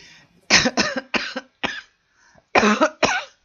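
A person coughs repeatedly at close range, first in a cluster of four harsh coughs and then two more after a short pause.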